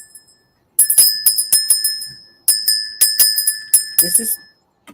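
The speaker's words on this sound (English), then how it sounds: "That bell is for our guest of honor." A small bell rings in quick, bright repeated dings, two bursts of rapid ringing separated by a short pause, close and clear.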